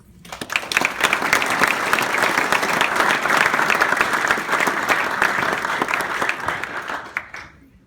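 An audience applauds steadily for about seven seconds at a hospital event, welcoming a patient speaker, with dense sustained clapping that fades out at the end.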